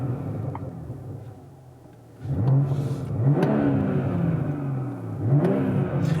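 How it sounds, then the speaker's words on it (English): A BMW M340i xDrive set to Sport Plus revs sharply at about two seconds, then again near five seconds, its engine note rising and falling loudly and up close with a steady idle between the blips. "So if I give it a quick rev, let's put it in Sport Plus"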